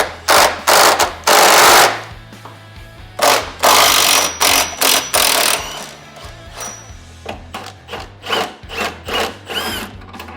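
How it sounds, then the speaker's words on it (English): Bolts being worked loose from the frame mounts of a Jeep Gladiator with a socket tool, heard as loud bursts of whirring and ratcheting in irregular spurts, close up, with no talking. "step 1 is we just got to remove the 3 bolts from the frame mounts"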